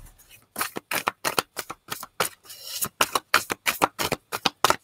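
Tarot cards are shuffled in quick, crisp riffling bursts, about a dozen rapid rhythmic flicks close to the listener, with no talking over them.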